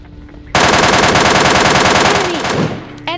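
In the mobile shooter PUBG Lite, one sustained burst of automatic gunfire rattles loud and close for over two seconds before cutting off.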